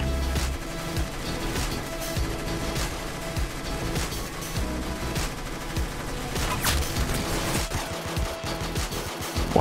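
Dense, rapid automatic gunfire from the Roblox game Arsenal rattles continuously, with loud overlapping bursts and sharp individual shots throughout and no talking.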